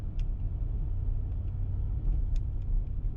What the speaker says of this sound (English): let's get that V8. Great sound.